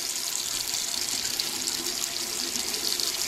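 Tap water runs steadily from a faucet into a sink during handwashing, a constant close hiss of splashing water with no pauses.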